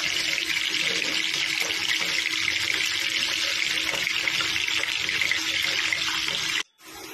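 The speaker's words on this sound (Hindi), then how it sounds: "गोभी फ्राई होगा अभी, गोभी डाल रहा है इसमें, देखिए" Cauliflower pieces fry in hot oil in a home kitchen, giving a steady, bright sizzling hiss that runs unbroken before a brief drop-out near the end.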